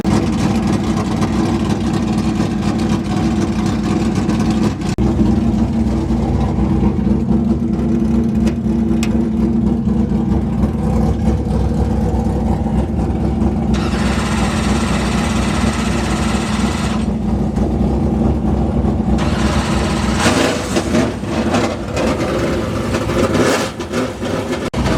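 A late model race car engine idles and revs while warming up before a heat race at a dirt track, a loud continuous close rumble with rising and falling throttle swells throughout.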